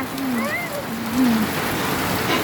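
Steady rain hisses across the whole stretch, with children bathing in the rain calling and shouting faintly over it.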